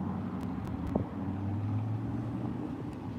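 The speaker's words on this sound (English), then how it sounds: "There's an engine sound over there." A car engine hums as a white car crosses train tracks outdoors, a low steady drone rising slightly, under wind noise and a few faint knocks.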